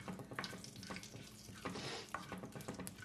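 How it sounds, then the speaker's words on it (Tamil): Black cardamom and cinnamon pieces sauté in hot oil with a soft, steady sizzle and a few faint stirring clicks, close and fairly quiet. "போட்டு ஒரு 20 செகண்ட்ஸ் மாதிரி இப்படி இதை வதங்கிடுவோம்."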